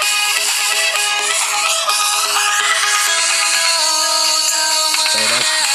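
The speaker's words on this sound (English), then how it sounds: "let me turn it up to max volume so you guys can hear" An LG G Vista smartphone plays a bright ringtone-like melody through its built-in speaker at full volume, loud and continuous with no talk over it.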